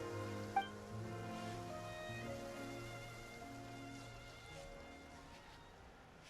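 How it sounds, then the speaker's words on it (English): Soft, steady rainfall patters in Genshin Impact, faint and constant under a layered background music track, with one brief sharp chime near the start. "It rained for longer than I suspected."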